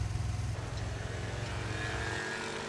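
A 1999 Kymco Cobra 50cc scooter engine hums steadily at a fairly low, even pitch, moderately distant and rather quiet, with no voices.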